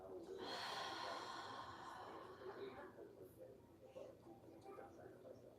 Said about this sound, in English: Now let's take a deep breath here And a deep breath out.